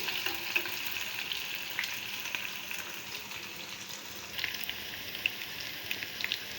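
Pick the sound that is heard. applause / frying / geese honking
frying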